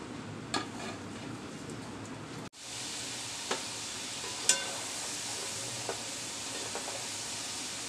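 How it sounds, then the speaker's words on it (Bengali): Half-fried, cornflour-coated french fries go back into hot oil for a second fry: a soft background hiss, then a sudden loud burst of sizzling that settles into steady bubbling, with a few light utensil clicks. "এবার আমি আবার তেলের মধ্যে ছেড়ে দিচ্ছি"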